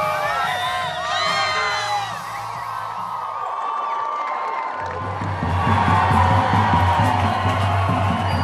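A large rally crowd at Rally Chile cheers, whoops and shouts loudly and continuously, with excited children's yells rising and falling and the roar swelling louder toward the end.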